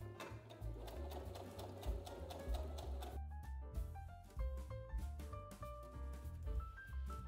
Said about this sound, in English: I am sewing on the left, so 5 millimeters away from the edge